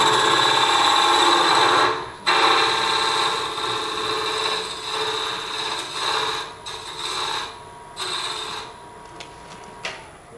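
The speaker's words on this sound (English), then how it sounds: "I'm just going to use the bowl gouge just to cut this end down" A bowl gouge cuts down the end of a spinning wood piece on a lathe, giving a loud continuous rasping hiss that breaks off briefly and returns in shorter, uneven strokes.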